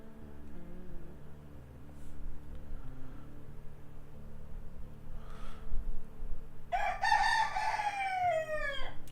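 After several seconds of quiet room noise, a single rooster crow rings out near the end, clear and fairly close, rising then trailing off.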